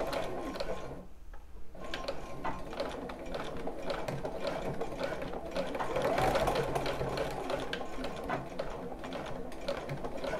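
Sewing machine stitching back and forth across a bra strap near a metal ring, a continuous close mechanical clatter with rapid needle ticks and a brief pause near the start.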